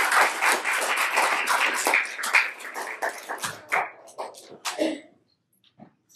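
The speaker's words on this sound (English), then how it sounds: "Let's give them a big round of applause." A church congregation claps for the musicians and singers, a lively burst of applause that thins into scattered claps and dies away to near silence, with a dog whimpering and barking faintly amid it.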